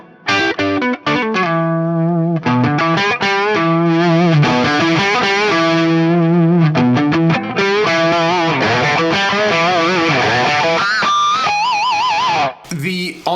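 An electric guitar through the Axe-Fx III's Marshall JCM800 amp model rings out loud and distorted in strummed chords and bending lead lines. It runs continuously with short gaps and a warbling phrase near the end.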